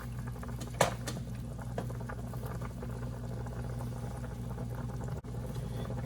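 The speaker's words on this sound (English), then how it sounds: "you get a lot of starch on the top and you get a lot of white rolling bubbles" Starchy water at a full rolling boil on the stove, foaming white bubbles rising to the top, a steady close bubbling and seething with a faint hum beneath and one brief clink near the start.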